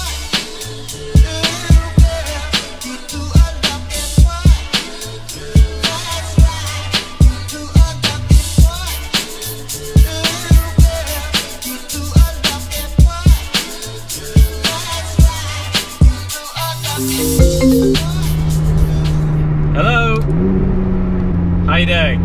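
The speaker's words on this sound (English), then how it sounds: "There is nothing like a supercar in a tunnel." A McLaren 675LT supercar engine echoes in a tunnel, with loud revving and a rapid series of sharp cracks and pops. It then settles into a steadier drone near the end.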